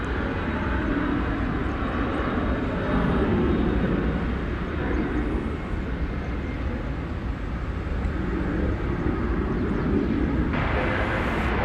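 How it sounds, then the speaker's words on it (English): A United Airbus A319 bound for Denver takes off at DFW Airport at night, making a continuous loud jet roar that holds steady throughout. "There you see United Flight 1961, an Airbus A319 that will be going to Denver"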